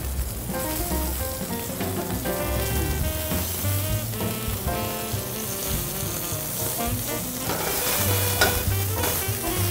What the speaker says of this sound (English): I'm gonna cook the shrimp on the red part